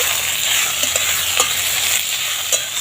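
Jute leaves sizzle loudly in a pan for a lentil dish while being stirred gently, a dense, continuous close frying hiss broken by a few light scraping clicks.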